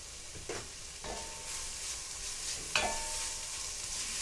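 Meatball stew being stirred in a pot, giving soft scraping and sizzling sounds with a few distinct clinks of the spoon against the pot, quiet and steady, with no talking.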